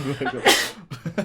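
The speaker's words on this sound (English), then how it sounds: "No, I'm gonna sneeze." One sharp, loud human sneeze bursts out mid-clip, framed by brief vocal sounds and breathy noises just before and after it.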